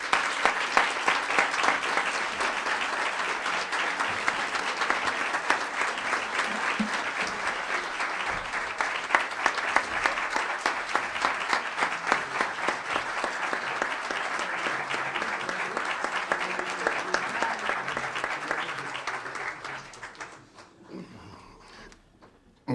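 A long, sustained ovation from the audience at a book presentation, dense steady clapping that holds for about twenty seconds before tapering off and fading out.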